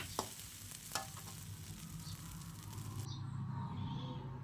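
Egg fried rice is scooped from a hot pan onto a plate: two sharp utensil scrapes near the start, then a steady close frying hiss with light stirring noise and no talking.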